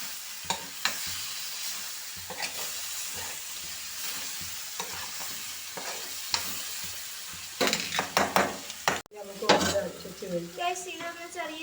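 Ginger garlic paste and tomato are stirred in a pan for a crab curry, a steady sizzle under scraping and clinking of a spoon against the metal pot, growing busier and louder toward the end.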